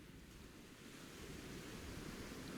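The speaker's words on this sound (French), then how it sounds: "le vent dans les feuilles, les vagues sur le sable" Gentle waves wash over sand, heard as a soft, continuous hushing swell beneath a light breeze, very quiet throughout and with no voices.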